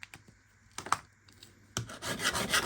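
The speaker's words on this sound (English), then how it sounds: "I'm going to start from the back and grind until the mark." Grinding on the broken tip of an old Morakniv hunting knife, starting from the back of the blade: scattered light scraping contacts at first, then a louder, continuous abrasive rasp that builds over the final second, close up with no talk.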